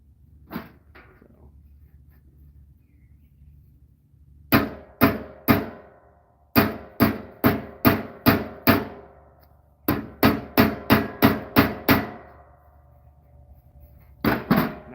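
A ball peen hammer rounds and flattens rivets over washers on a brigandine placard. Loud, close metallic strikes land in quick rhythmic bursts, separated by pauses, with no talking.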